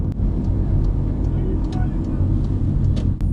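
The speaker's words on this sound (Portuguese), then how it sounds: "Vamos ver esse caminhão." A truck passing on a road in Latvia, a steady loud vehicle rumble lasting throughout, with traffic noise and faint speech mixed in.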